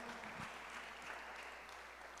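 A church congregation applauds in a steady, dense wash of clapping that fills the room without pause, with a faint low hum beneath.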